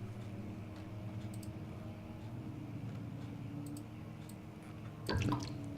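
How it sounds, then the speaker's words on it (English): Lantern being refilled with fuel in the horror game Amnesia: The Dark Descent: a brief liquid splash and clatter toward the end, over a steady low ambient drone, with faint ticks scattered before it. "That is how one fills one's lantern."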